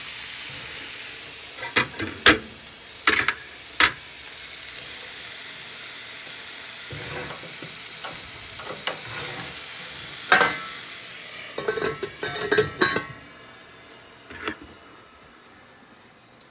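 Steak fries in a pan with a soft continuous sizzle, broken by sharp bursts of spattering and clicks from a utensil, close by and with no one talking.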